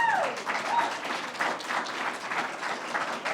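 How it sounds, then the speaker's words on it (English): An audience at a state literacy announcement event breaks into applause, a full, even roar of many hands clapping that holds steady at moderate loudness, with a brief tone at the very start. "Let's give him a round of applause."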